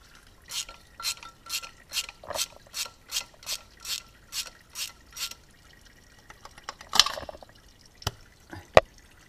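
Automatic gearbox oil from a Mercedes drips during draining, about a dozen evenly spaced drops in a quiet, steady rhythm, followed by a few scattered metallic clinks.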